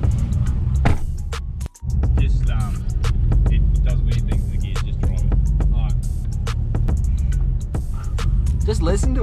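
A Toyota Hilux engine idles with a steady, lumpy low rumble throughout, near and constant, while people talk over it and occasional knocks and clicks sound around the vehicle.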